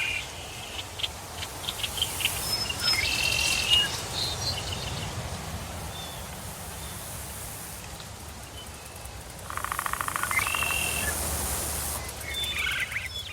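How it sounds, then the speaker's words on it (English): Birds chirp and call through a dense forest, with a steady wind-like hiss of insects and rustling leaves running beneath the whole stretch. "Now we hear the wind blowing through the trees and lots of birds and insects"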